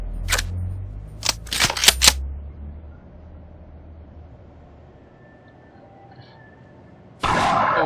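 Gun reloading in Garry's Mod: a quick series of sharp mechanical clicks and clacks up close, followed by a quiet hum and then a sudden burst of noise at the end.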